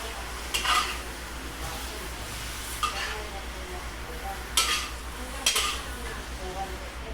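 Squid stir-fried with onion and chili hisses softly in a pan, while a utensil scrapes and clinks against the metal every second or two, with faint voices in the background.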